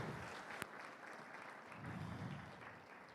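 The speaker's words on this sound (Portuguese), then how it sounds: "vamos aplaudir o Senhor por isso, meus irmãos" Faint, distant clapping from a church congregation during a celebration service runs steadily for about three seconds, with one sharp knock near the start and a low rumble swelling midway.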